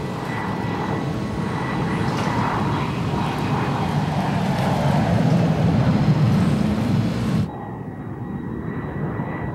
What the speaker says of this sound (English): drawing passengers away from ocean liners into the high altitude and high speed of